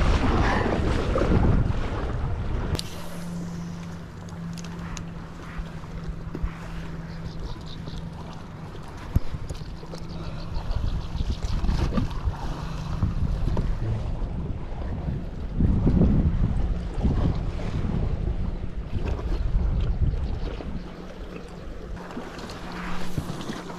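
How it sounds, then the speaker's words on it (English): Waves from passing boats slap against a kayak on Wilson Lake, a continuous splashing and churning of water buffeted by strong wind noise on the microphone, loud and close with a low engine hum in the background. "Now we'll get some waves of these boats."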